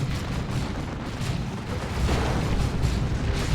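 Heavy lascannon and fire prism shots strike in a Dawn of War 2 battle as a dense, rumbling barrage of booms and blasts. The roar is steady and swells slightly toward the end.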